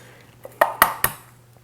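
A whisk taps and clinks against a bowl while eggs are beaten, three sharp metallic strikes in quick succession, close and bright over a faint hum.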